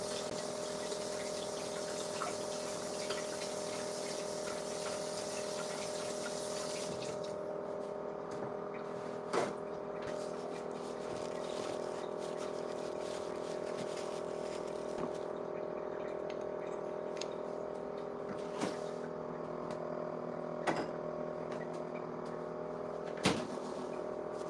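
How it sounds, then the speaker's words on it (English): Water runs steadily from a tap as hands are washed at a kitchen sink, a continuous hiss with a low hum underneath and a few soft clicks and knocks. "I'm gonna wash my hands."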